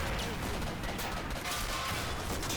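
Dense, continuous battlefield gunfire in a wartime strategy video game, a loud unbroken crackle of rifle and machine-gun shots layered with heavier blasts, filling the whole stretch without pause.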